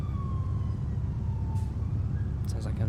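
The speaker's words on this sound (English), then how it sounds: "Sounds like a fire truck's gone past." A fire truck siren wails faintly in the distance, its tone sliding slowly downward as it passes, over a low steady rumble, with a brief voice near the end.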